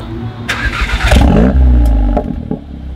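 A Volkswagen Golf 7 R engine revs hard through a loud, raspy aftermarket Remus exhaust with 102 mm tips, rising in a couple of throaty bursts then settling into a rumbling idle.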